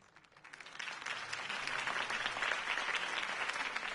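Applause from a crowd in the video game Batman: The Telltale Series swells up from quiet and holds steady, a dense wash of many hands clapping at a distance.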